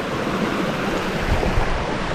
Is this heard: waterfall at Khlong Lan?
yes